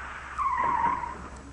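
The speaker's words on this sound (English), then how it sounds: "the right front tire will make more noise than the rest of the car" BMW front tire squealing under braking into a right turn, a single rising and falling screech lasting about a second over low road rumble, heard alone at moderate distance.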